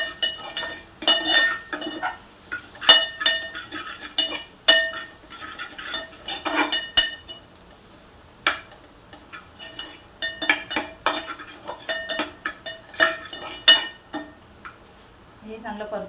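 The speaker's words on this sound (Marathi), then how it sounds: "हे चांगले परतून घेऊया मिक्स करून" Egg ghotala with fenugreek being stirred in a pan, with repeated sharp scrapes and clinks of a utensil against metal coming in irregular bursts, close and fairly loud, over a faint sizzle.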